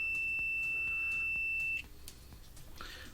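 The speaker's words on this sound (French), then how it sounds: "Ça peut aussi bien marcher au test de continuité par exemple. Vous avez tout ça, un petit bip bip là sur le..." Multimeter continuity-test beep while checking a fuse in a smoke machine: a single steady high-pitched tone lasting under two seconds, followed by faint room noise.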